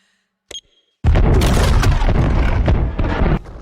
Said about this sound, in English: Emma detonates the explosives and the eco-terrorists make good their escape